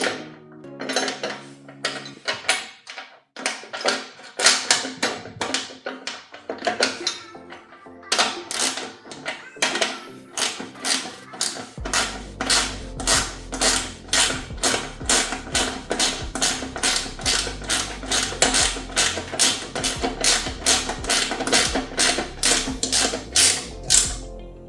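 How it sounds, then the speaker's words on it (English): Ratchet tightening the skid plate bolt on a PowerSmart two-stage gas snow blower, a long run of loud, evenly spaced clicks after some irregular clatter, close up with no talking. "let's tighten the bolt for the skid plate"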